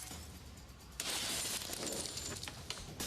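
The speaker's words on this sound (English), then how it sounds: "the gang smashed wildly at the store's jewellery display cases." Glass jewellery display cases in a store being smashed with sledgehammers during a raid: a sudden loud crash of shattering glass bursts in after a quieter stretch, followed by continued rattling debris and several sharper impacts.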